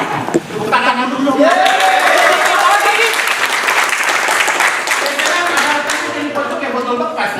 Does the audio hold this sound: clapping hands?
yes